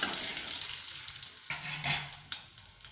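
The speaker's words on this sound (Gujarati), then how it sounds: "હવે આપણે તેમાં આ બટેકા એડ કરી દઈશું અને આને સાતળી લઈશું" Potatoes for dum aloo sauté in one to two spoonfuls of hot oil, giving a steady close sizzle broken by several sharper scraping stirs.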